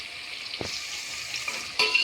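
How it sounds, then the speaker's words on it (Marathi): Ginger-garlic paste and onion fry in hot oil in a pan, a soft continuous sizzle with a couple of faint stirring scrapes, close and without talking. "आणि आपण त्यात आता लगेच अद्रक लसणाची पेस्टही टाकूया। अद्रक लसण आणि कांदा छान तेलात होऊ द्यायचा आहे।"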